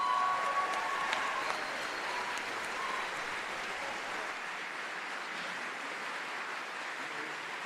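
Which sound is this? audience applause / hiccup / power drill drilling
audience applause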